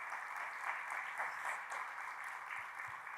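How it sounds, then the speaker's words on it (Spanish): A church congregation at a Christian camp session applauds a family, producing a continuous, even patter of many hands clapping at moderate volume with no talk over it. "también aplaudamos a la familia Márquez."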